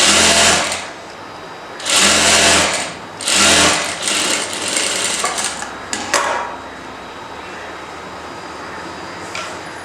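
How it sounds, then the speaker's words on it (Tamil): A sewing machine stitches a hook strip onto a blouse in loud, close bursts of rapid mechanical whirring that start and stop, followed by quieter intermittent running. "இப்போ நம்ம இதை தைச்சு ஃபினிஷ் பண்ணலாம்"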